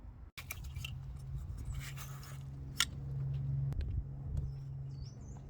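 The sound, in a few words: unplugging ignition coils on an Audi TT MK1 engine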